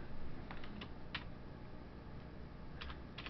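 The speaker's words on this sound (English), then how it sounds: "You type in here" Quick keystrokes on a computer keyboard while entering a Google image search, a few scattered taps and short bursts over a steady low hum, close and fairly soft, no speech.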